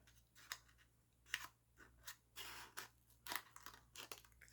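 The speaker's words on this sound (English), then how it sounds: "And let's just make a little curved cut." Scissors snip a small curved cut through paper for a junk journal envelope, a quiet close series of crisp, irregular snips and crunches.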